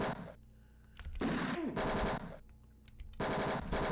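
Gunfire in the video game Tex Murphy: Mean Streets comes in rapid, harsh machine-gun bursts that alternate with short gaps, loud and continuous in the game audio, with a faint voice now and then.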